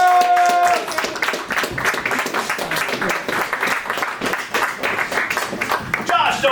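A comedy show audience breaks into loud, dense applause that carries on steadily for several seconds, with scattered whoops mixed in.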